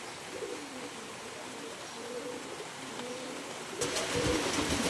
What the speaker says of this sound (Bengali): কবুতরগুলো খাদ্যর জন্য কিভাবে ছুটাছুটি করতেছে।